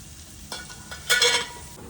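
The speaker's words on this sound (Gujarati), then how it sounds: "હવે ડુંગળીને સાતરી દેવાની બરાબર" Onion with red Kashmiri chilli and green chilli sautés in a pan: a quiet sizzle that swells in short bursts as the pan is stirred.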